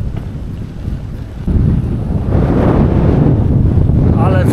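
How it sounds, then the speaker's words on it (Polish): Strong wind buffets the microphone in a continuous low roar while cycling across open fields in the Biebrza marshes, growing louder partway through. "Ale wieje na tych polach."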